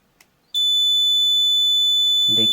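An LPG gas leak detector alarm trips when lighter gas is released near it, a sudden loud, piercing continuous electronic buzz that holds steady, with a brief faint rustle before it starts and a short low voice near the end.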